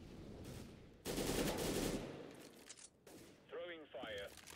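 In the video game CS:GO, an incendiary grenade and gunfire produce a sharp, loud burst of shots and crackling fire that dies away into quieter noise, followed by a short voice.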